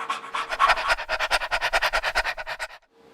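A group of people imitates a dog panting at a family Rosh Hashanah service, producing a rapid, rhythmic series of loud breathy pants for nearly three seconds before stopping abruptly.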